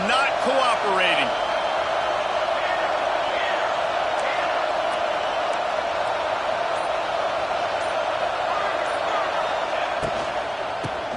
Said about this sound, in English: This offense trying to quieten the crowd on 1st and goal